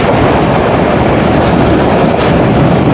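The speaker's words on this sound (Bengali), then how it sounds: "আজকের ট্রেনটি থেমে গেছে যশোরের গদখালিতে" The Betna Express on the Khulna–Benapole line at Gadkhali station in Jessore gives off a loud, steady rumble and clatter of rail cars and wheels, close by and continuous with no letup, with no voices.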